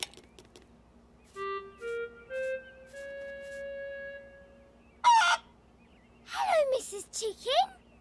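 A cartoon chicken in a Peppa Pig episode clucks in a few short, sharp bursts near the end, after a run of sustained tonal musical notes, with no overlapping speech.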